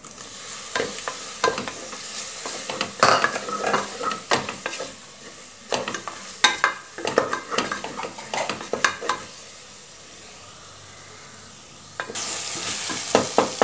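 Loud, crackling sizzle of tomatoes frying in a pan, with repeated stirring scrapes and clatter, then a brief quieter stretch before the hiss surges again.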